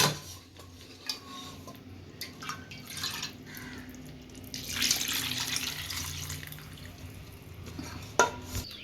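Water left from cooking beef is poured into a pan for a beef dish: a steady, moderate splashing trickle lasting several seconds, with a few clinks of metal utensils.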